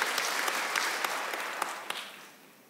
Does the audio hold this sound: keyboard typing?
no